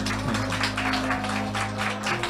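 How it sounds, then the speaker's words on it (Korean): An audience at a political talk event claps in a brief, dense burst of applause over a steady electrical hum. "박수 부탁드리겠습니다."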